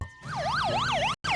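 A cartoon police car siren wails in a rapid rising-and-falling yelp, loud and close, briefly cut off before resuming.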